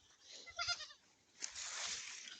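Goats penned behind a cattle-panel gate give two close bleats, a short one followed by a longer, louder cry.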